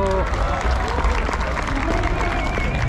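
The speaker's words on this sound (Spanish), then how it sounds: "Un fuerte aplauso para todos" A crowd at a lucha libre wrestling show in Mexico applauds and cheers. The clapping is loud and sustained, with dense crowd noise and voices mixed through it.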